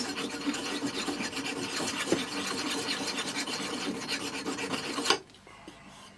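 Metal file rasping old solder off a cabinet lock, loud steady back-and-forth strokes close up for about five seconds, then stopping abruptly into near quiet.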